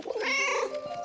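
A cat meowing in the video game 11-11: Memories Retold: a single short, fairly close meow, drawn out slightly in the middle and alone against a quiet background.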